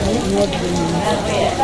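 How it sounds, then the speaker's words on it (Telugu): Steady rain falling outdoors near a temple, a dense even patter and hiss with no breaks, fairly loud and close. "వర్షం పడుతుంది ఇక్కడ"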